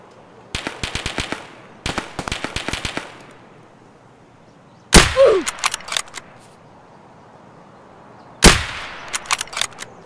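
Gunfire in Escape from Tarkov: loud, sharp shots in two quick volleys of rapid bursts, then two heavier single reports about three seconds apart, each trailing into echoing decay over a low outdoor background.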